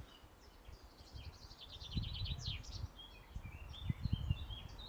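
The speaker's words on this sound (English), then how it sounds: "listen to all the birds as well" Several birds chirp and trill softly in a tranquil home garden, with scattered high calls throughout and some low rustling or handling noise underneath.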